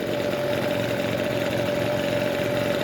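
A warm Husqvarna 125B leaf blower's small two-stroke engine runs just after starting, a steady buzzing drone with a sharp tonal whine, close and constant without any speech.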